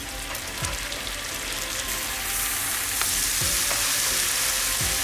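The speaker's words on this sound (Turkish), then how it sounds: "Bu aşamada şimdi artık en son domateslerimizi üzerine ekliyoruz." Chicken pieces with peppers sizzle steadily in a hot pan as tomatoes are added, a constant close frying crackle with a few soft clinks of utensils.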